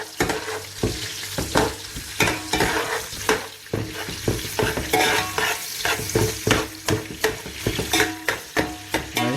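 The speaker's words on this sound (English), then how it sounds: "So in goes onion and the cinnamon sticks. I just want to spread that out." Onion and cinnamon sticks fry in a pot for a lamb akni, a steady close sizzle broken by repeated scraping stirs that knock and clatter at an uneven rhythm, with no talking.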